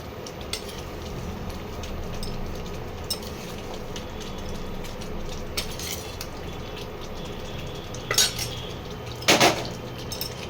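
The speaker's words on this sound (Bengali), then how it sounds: "ঝোলটা ফুটতে আরম্ভ করেছে এবারে আমি আলুগুলো আস্তে আস্তে দিয়ে দেবো" Potatoes go into simmering spiced gravy for dum aloo in a home kitchen pot, giving a steady bubbling hiss with a few sharp metallic clinks of utensil against pan near the end, no voices.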